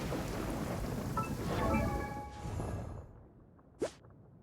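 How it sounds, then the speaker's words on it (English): Rain and a thunderstorm in the video game Genshin Impact: a soft rain hiss carries a building rumble, then a brief whooshing sweep and a sharp crack near the end, and no one speaks. "Please stay indoors until the storm passes."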